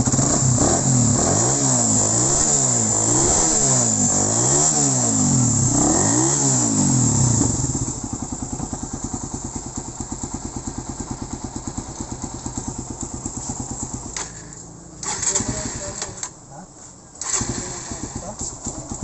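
Suzuki Raider 150 motorcycle with freshly reworked exhaust idling up close, a loud throbbing engine note with revving swells early on that settle into a steady rumble, briefly dipping and surging near the end.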